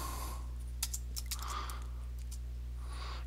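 Sparse keystrokes on a computer keyboard, a few quiet clicks in a short burst, over a faint steady electrical hum in a quiet room; no talking.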